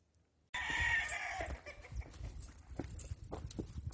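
A rooster crows loudly up close, a drawn-out call, followed by quieter scattered farmyard clucks and rustling.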